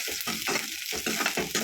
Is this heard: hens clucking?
no